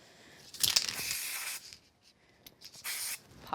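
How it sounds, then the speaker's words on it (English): Spray glue hisses from an aerosol can in two bursts, a longer one near the start and a shorter one later, close by with quiet pauses between. "let's just use some spray glue"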